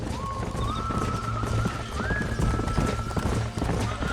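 Horse hooves clip-clop in a steady trotting rhythm in the video game Red Dead Redemption, with a horse whinnying over them and low background noise underneath.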